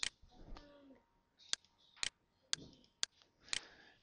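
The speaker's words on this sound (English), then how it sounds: "Okay, so I'm going to keep clicking." Sharp, isolated clicks of a computer mouse sound at a steady pace about every half second, close and crisp against a quiet room, with faint speech between them while background removal is done in Paint.net.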